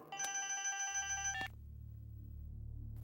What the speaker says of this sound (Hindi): सर, आपके साले का फोन।